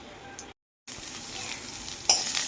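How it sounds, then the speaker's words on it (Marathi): Onion, green chilies and curry leaves sauté in hot oil with cumin and mustard seeds, a close, steady sizzle with stirring, briefly cut to silence, then brighter crackling toward the end. "आता कांदा आणि कढीपत्ता मिरची परतून घ्यायची"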